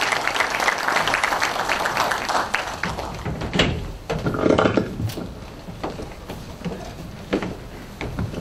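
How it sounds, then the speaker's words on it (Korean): Audience applause at a book concert in Jeonju, a dense crowd clapping steadily for several seconds with some knocks and shuffles mixed in, fairly close and loud. "큰 박수 부탁드리겠습니다."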